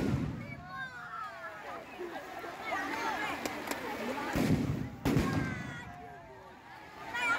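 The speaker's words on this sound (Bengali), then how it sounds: "তো আপনারা আতশবাজিটা এনজয় করুন" Fireworks bursting outdoors at Ramsayer Maidan in Asansol during rain, with repeated booms and crackling pops at a moderate distance over steady background noise and crowd chatter.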